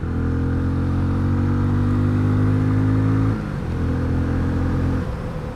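A Benelli 400 Imperiale motorcycle is pulled at full throttle on an expressway, its engine note climbing steadily, dropping briefly at a gear change, then rising again, loud and close.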